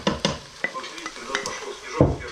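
Pieces of pike from the Seret river frying in a pan with carrot and onion, with a low sizzle under repeated sharp scrapes and knocks of stirring, close and fairly clear, with no talk.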